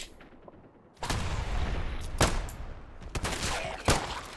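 Shotgun blasts in a video game firefight: several loud, sharp shots spaced about a second apart over a low background rumble, no talking.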